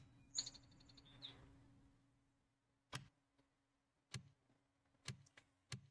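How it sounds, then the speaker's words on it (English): A cardinal sings in a tree in the game Wurm Online, giving a few quick, high chirps early on, followed by quiet, evenly spaced sharp ticks over a soft low hum. "listening to a bird sing."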